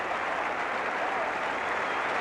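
Cricket crowd at an Ashes Test match applauding David Gower's half-century, dense, steady clapping from a large stadium audience throughout.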